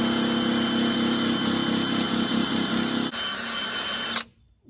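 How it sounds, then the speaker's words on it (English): A small handheld grinder runs steadily while cleaning off an area of a 14 ft StarCraft boat hull, a continuous buzzing whine held close and loud for about four seconds before cutting off abruptly. "I just got a little grinder and a drill."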